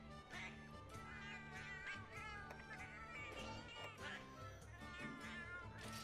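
Cat meowing in the video game Monster Hunter XX, repeated mews over steady game music and background sound, with a voice speaking at times.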